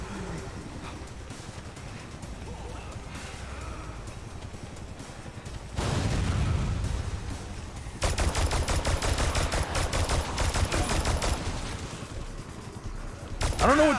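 Dense gunfire in the zombie game Dead Rising 3, with steady rapid bursts of automatic weapons that swell after the midpoint into loud continuous rattling amid heavy in-game action.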